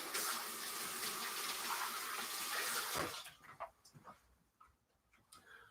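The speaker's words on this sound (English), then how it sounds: "Wash my hands quickly." Hands are washed under a running kitchen tap, with a steady loud rush of water for about three seconds, then the flow cuts off and leaves quieter scattered drips and handling sounds.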